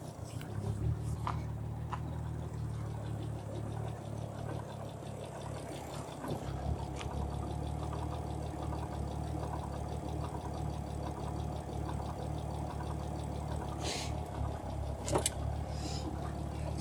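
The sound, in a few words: Ford Anglia engine idling lean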